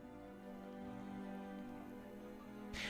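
Steady rain falls as continuous background ambience, an even wash of patter with no talk, ending in a brief brighter burst.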